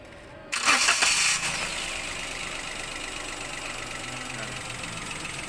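A used car's engine cranks and catches with a loud burst, then settles into a steady, even idle, with the radiator cap removed during an engine condition check.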